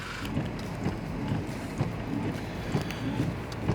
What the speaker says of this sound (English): It's absolutely pouring rain